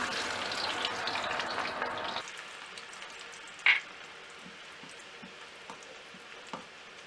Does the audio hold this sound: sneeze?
no